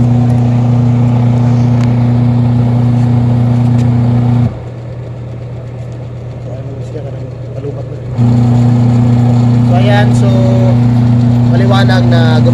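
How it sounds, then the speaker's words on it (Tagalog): A washing machine dryer motor running after its dual capacitor was replaced, a loud steady hum that drops away for a few seconds mid-clip and then resumes at full strength, with faint clatter near the end. "gumagana na yung motor natin"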